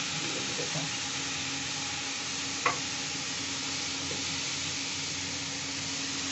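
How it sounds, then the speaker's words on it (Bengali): Chili and cumin powder being sautéed with a little turmeric for an egg and pumpkin curry, a steady soft sizzle with faint stirring and one brief scrape of the spoon against the pan. "এই দিয়ে আমি কষে নেবো"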